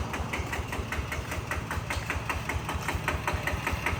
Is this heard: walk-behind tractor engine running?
yes